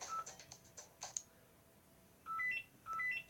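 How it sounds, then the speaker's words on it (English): A house phone in a bedroom gives short electronic beeps, a few thin tones early on, then two louder tone bursts near the end, faint and close. "if you can hear any beeping, guys, it's just because there's a house phone in my room, and the house phone's probably ringing"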